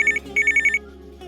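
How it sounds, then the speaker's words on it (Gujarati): A telephone ringtone sounds in two electronic bursts, one short trill and then a longer pulsing run of beeps, close and clear with no talking, as a call comes in during a Gujarati comedy sketch. "પાછો ફોન આવ્યો."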